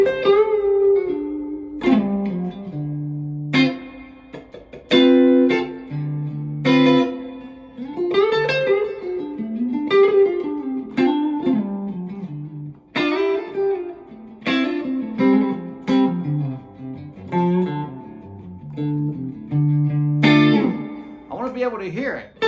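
Electric guitar playing pentatonic licks through heavy reverb, short phrases separated by pauses with ringing tails that hang between notes, fairly loud and close.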